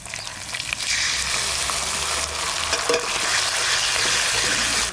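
Cumin paste, garlic paste and tomato purée frying and being stirred in a pan for jackfruit kalia, a loud, continuous close-up sizzle with scraping stirs throughout and no talking.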